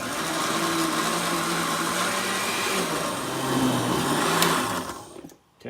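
A blender runs steadily for about five seconds, chopping homemade salsa, a loud continuous motor whir with churning texture that cuts off abruptly near the end.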